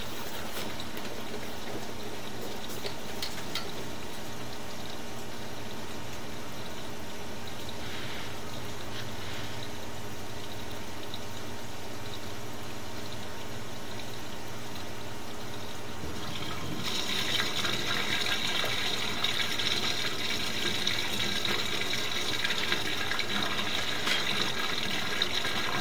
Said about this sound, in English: I'm gonna flush the toilet and I'll be right back. And then we might hear a gush sound.